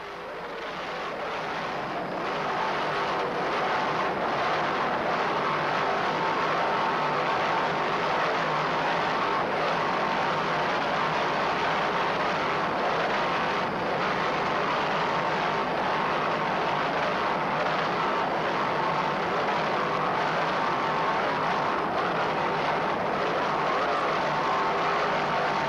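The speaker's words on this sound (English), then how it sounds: "Two 625 horsepower professional marine inboards." Offshore racing powerboats with twin 625-horsepower professional marine inboard engines roar continuously at Key West, a loud dense engine drone with spray and wind noise that swells in the first seconds and then holds steady.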